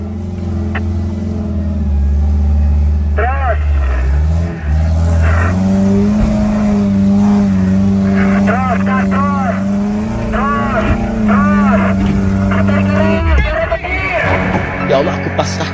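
Off-road vehicle on a trail during a West Java adventure off-road event: a loud, close engine revving and surging in repeated rising and falling pulls, with voices heard at moments.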